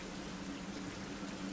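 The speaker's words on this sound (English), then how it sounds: "Problem is, with this freaking rain, I can't really see what's underneath my feet right now." Steady rain falling in a survival video game, a dense, even patter with a low hum beneath, continuous and alone without speech.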